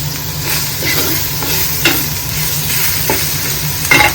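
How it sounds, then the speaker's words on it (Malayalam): Bitter gourd sautéed with salt in a pan for pavakka theeyal gives a steady close sizzle, broken by periodic scraping strokes of the stirring spoon. "കുറച്ച് ഉപ്പിട്ട് വഴറ്റി കൊടുക്കും."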